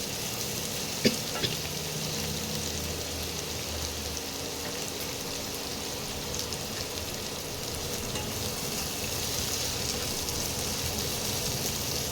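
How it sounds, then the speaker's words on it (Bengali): Continuous close sizzling and crackling of onions frying in hot oil, with a couple of brief utensil taps early on, no talking. "পেঁয়াজটা খুব ভাজা হবে না, কাঁচা গন্ধটা যতক্ষণ না যায় ততক্ষণ ভাজতে হবে।"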